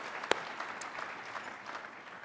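Faint applause from a dinner audience at a 2010 Goldwater Institute event, a soft, even patter of clapping that sounds distant and carries no voices.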